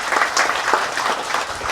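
Brief scattered applause from a small group at a land certificate handover, moderately distant with uneven claps over a short stretch.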